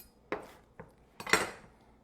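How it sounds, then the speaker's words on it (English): A knife slices lemon in a home kitchen, three crisp cutting clicks against a board spaced apart, the last one loudest, close up with no talking. "you can even cut the lemon slices in half"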